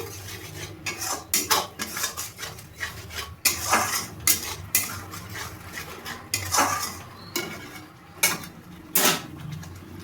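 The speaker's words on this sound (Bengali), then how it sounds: "এবার আমি সমস্ত কিছু দিয়ে আবার মশলাটাকে ভালোভাবে কষিয়ে নেব" Spice masala of coriander and cumin powder being stirred and fried in a pan for shop-style chicken bharta, with repeated scraping clinks of a spoon against metal and a soft sizzle underneath, fairly close and steady.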